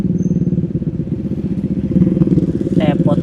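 Motorcycle engine droning steadily on a night touring ride in Java, Indonesia, a continuous mid-pitched hum under passing talk and road noise.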